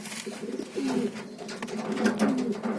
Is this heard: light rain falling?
no